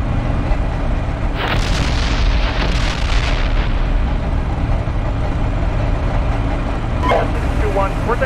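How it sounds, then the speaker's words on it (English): Airstrike carpet bombing in the Steel Beasts Pro tank simulator game, a continuous heavy rumble with deep booming blasts, a cluster of bursts early and another pair later, with voices talking over it. "were they carpet bombing this place?"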